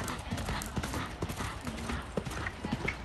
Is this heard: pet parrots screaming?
no